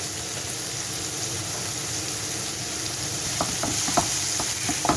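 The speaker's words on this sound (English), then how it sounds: "So I'm going to brown them off in this pan, this amount." Pieces of meat for a tikka madras browning in a frying pan, with a steady, dense sizzle throughout and a few louder crackles and stirring scrapes toward the end, close and with no talk.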